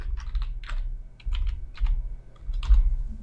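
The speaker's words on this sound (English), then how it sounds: "So I'm just going to type mine" Keys tapping on a computer keyboard while a database password is entered, quick clusters of clicks separated by short pauses, close and fairly quiet.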